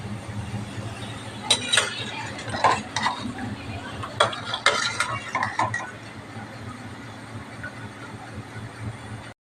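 Fried rava gulab jamun lifted from hot oil and dropped into sugar syrup: a few close metallic scoops and clinks of a spoon against a pan, with faint sizzling, then quieter handling toward the end.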